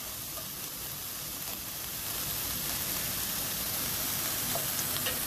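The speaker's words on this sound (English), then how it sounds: "our veggies are cooking. We have a really nice sizzle on everything." Sweet peppers and other vegetables, with a little honey, sizzle and fry in a pan with a steady, hissing crackle that grows slightly louder partway through, with no voices.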